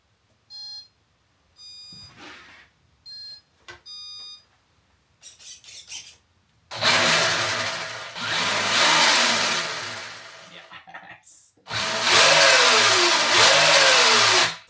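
A very long RC car on its first run: short electronic beeps at the start, then bursts of loud whining motor that rise and fall in pitch, separated by brief pauses.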